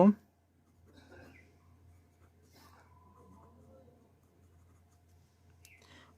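Faint scratching of writing on paper while a trigonometry problem is worked out, in soft intermittent strokes under a person talking quietly.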